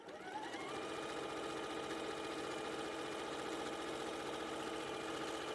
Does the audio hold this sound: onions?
no